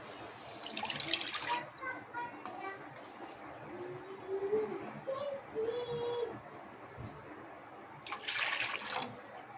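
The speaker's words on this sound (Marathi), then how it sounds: "त्याच वाटीच्या मापाने आपण 2 वाटी पाणी ह्यामध्ये ॲड करायचं आहे" Two bowls of water splash and pour into a pot in a couple of bursts for chakali dough, with a voice speaking faintly in the background.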